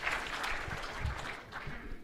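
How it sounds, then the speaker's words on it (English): Audience applause at a governor's town hall hosted by the League of Women Voters of Fremont County, a steady dense wash of clapping lasting about two seconds without a break. "Please, a round of applause."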